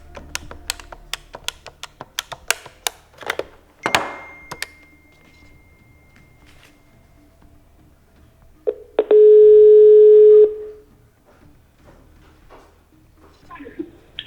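A steady telephone ringback tone sounds once for about a second while a call is placed, preceded by a run of sharp clicks and taps like keypad or handset handling, with quiet background in between.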